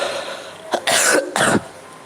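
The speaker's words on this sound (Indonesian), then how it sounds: "Batuk ini." A person's coughing during a live mobile game stream, with two or three harsh close coughs in a quick burst and nothing else behind them.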